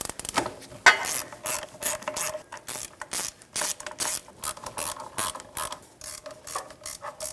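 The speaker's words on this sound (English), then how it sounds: "I'm going to use a swivel socket with an extension, and I'm going to take all 4 nuts off." A ratchet with a 12mm swivel socket and extension loosens driveshaft nuts on a 2013–2018 Toyota RAV4 2.5L, giving close, rapid clicking bursts in repeated strokes with short pauses between them.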